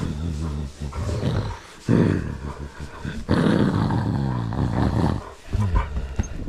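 Husky dogs growling and yowling close by in a loud, continuous, rough mix of snarls and howl-like cries with brief dips, a few sharp bursts standing out.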